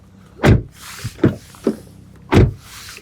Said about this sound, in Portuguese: a batida de porta mais legal do mundo?